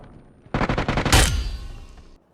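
A rapid burst of automatic gunfire in a battle royale video game, about eight quick shots in a row followed by a louder blast that trails off, close and sharp.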